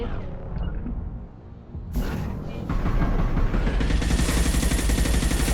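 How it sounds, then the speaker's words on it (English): Enemies firing on the player in Mass Effect Legendary Edition: after a quieter opening, a dense, loud stretch of rapid automatic fire and impacts keeps going without a break. "they're still shooting at me"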